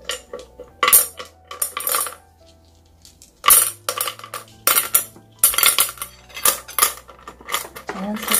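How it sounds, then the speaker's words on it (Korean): Hard stones clatter and clink against one another and a plant container in irregular bursts, loud and close, with brief quiet gaps between handfuls. "나머지 돌멩이를 좀더 넣어보도록 하겠습니다"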